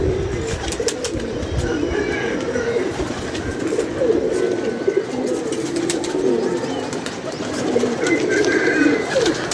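Pigeons kept by a pigeon fancier coo continuously and close by, a soft, steady, throaty rumble that runs for about ten seconds over faint background noise.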